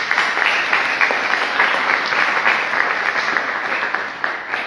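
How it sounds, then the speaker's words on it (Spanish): A large audience at a theology congress applauds steadily, a dense, even wash of clapping that holds for several seconds without letting up. "le brindamos un fuerte aplauso"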